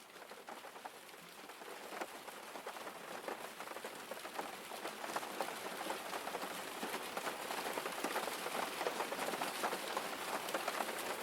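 Steady rain played back as a relaxation track, a dense continuous hiss of drops pattering on a surface, even and close, with no voices over it.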